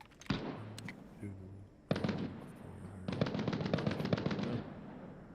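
Gunfire in the video game Arena Breakout: a single sharp shot, then a short burst, then a rapid automatic string of shots, close and loud against a quiet background.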